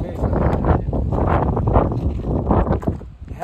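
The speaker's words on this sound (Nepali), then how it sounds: "हावा चाहिँ बब्बाल लाग्दो रहेछ।" Strong wind gusts across a hilltop ridge, a loud continuous roar buffeting the microphone with rumbling surges and brief dips.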